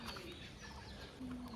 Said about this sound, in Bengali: পাখির কিচিরমিচির নয়েজটা কিন্তু ভিডিওটাকে চমৎকার করেছে